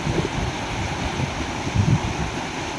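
Floodwater rushes across a flooded farm field in Wardha district, Maharashtra, where a pipeline was swept away: a steady, close, broadband wash of moving water with wind buffeting the microphone and no voices.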